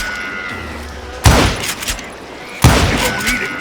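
Two loud gunshot blasts from the video game Call of Juarez: Gunslinger, spaced more than a second apart, each with a sharp crack and a short decaying boom, over a low background hum.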